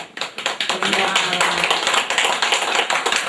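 Guests clapping together at a Kazakh wedding matchmaking celebration in Taraz, a dense stretch of steady rhythmic applause that starts unevenly and then holds loud, with a host speaking over it.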